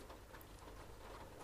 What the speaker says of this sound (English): It's been a long time since we've gotten rain around here.